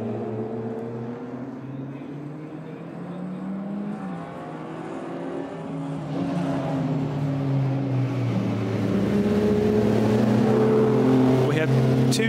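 A Ferrari race car runs at the Hungaroring circuit with a steady engine drone that climbs in pitch and grows louder over twelve seconds. A commentator talks over the engine throughout.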